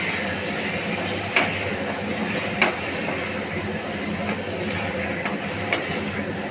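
Spices and vegetables sizzling in a pan with very little oil, a steady, bright frying hiss throughout, punctuated by a few soft clinks of stirring, close and alone without talk.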